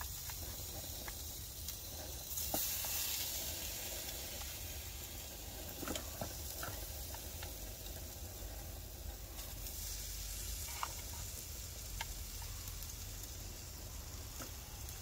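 Breakfast food fries in a pan with a steady, even sizzle and hiss, with occasional faint pops and clicks over the constant crackle, alone without talk.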